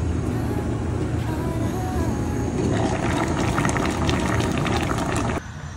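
An electric egg boiler with two eggs inside, its lid on, bubbling and hissing steadily and up close for several seconds before the sound drops off sharply near the end.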